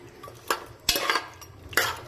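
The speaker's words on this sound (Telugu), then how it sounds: "ఇందులో ఇలా ఆయిల్ వేసాక బాగా కలపాలి." Oil being stirred into mutton pieces in a pan for mutton curry, a few distinct scraping clinks of a spoon against the pan at intervals over a quiet background, no talking.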